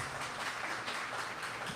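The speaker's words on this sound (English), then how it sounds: "Let's give Harini a round of applause." Audience applauding after a marketing talk, a steady patter of many hands clapping at moderate volume, fairly distant and even for the whole stretch.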